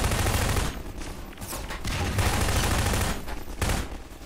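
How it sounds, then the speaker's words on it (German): Dense, loud bursts of automatic gunfire from the video game Half-Life 2, near and continuous with brief dips between volleys, no talk over it. "Hier muss ich selber mal ein bisschen schießen"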